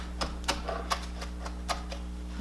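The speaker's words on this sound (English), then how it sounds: "I'm going to dice up my cilantro real quick" Knife dicing a sprig of cilantro on a cutting board: a few sharp, evenly spaced taps, about six in two and a half seconds, over a steady low hum.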